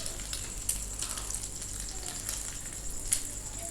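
Shami kababs dipped in egg frying in hot oil, a steady close crackling sizzle with occasional sharper pops, heard alone without talking.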